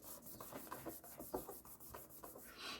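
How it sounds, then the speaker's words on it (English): Two glued paper pieces rubbed together by hand while crafting a ribbon spool, a faint, close, rhythmic scratchy swishing with quick repeated strokes, no voices. "give it a rub together to squish the glue around"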